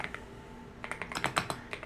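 Fingers tap out a short burst of typing on a computer keyboard, quiet at first then a quick run of crisp, close key clicks.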